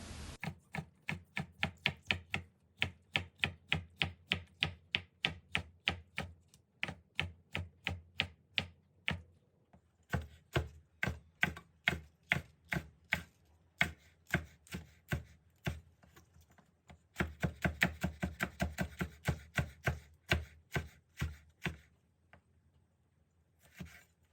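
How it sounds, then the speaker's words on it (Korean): Knife chopping onion, zucchini, chili pepper and perilla leaves on a cutting board for Korean pancakes, a steady run of close, crisp rhythmic chops in several bursts with short pauses between. "양파, 호박, 고추, 깻잎을 적당한 크기로 썰어서 모았고요"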